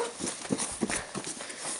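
Hooves of a pony clip-clopping at a stable, a run of irregular hollow thuds at close range over a steady background hiss.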